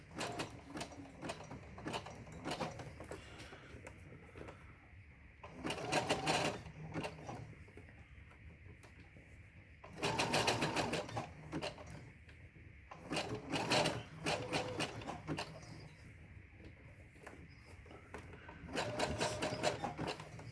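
A sewing machine stitches a fabric face mask with a filter pocket, running in several bursts of rapid mechanical clatter separated by quieter pauses. It is close and clear, with little or no talking.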